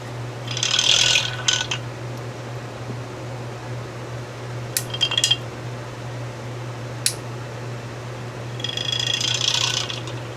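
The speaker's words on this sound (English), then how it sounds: "We'll put it back on our stir plate." A magnetic stir plate mixes barley malt syrup for malt yeast agar, giving a steady low motor hum throughout, interrupted by short rattling, clattering bursts near the start, middle and end.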